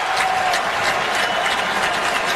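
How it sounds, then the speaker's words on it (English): A hockey crowd at the United Center gives a standing ovation, a loud, steady wash of applause and cheering that fills the space and holds without a break. "raises his stick to the crowd here at the United Center and gets a standing ovation"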